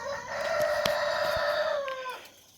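A rooster belonging to a backyard flock of Cornish Cross and Rhode Island Red chickens crows loudly and up close in one long sustained call, with faint clucking around it, before it fades into quiet.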